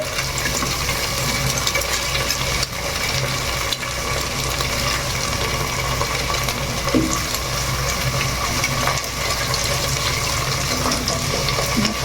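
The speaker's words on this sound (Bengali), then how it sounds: "ডিমগুলোকে হালকা করে নেড়ে একটু ঝুড়ো ঝুড়ো করে নিতে হবে" Eggs seasoned with a little salt are stirred and scrambled in a pan for vegetable noodles, a steady loud sizzle with occasional stirring and scraping throughout.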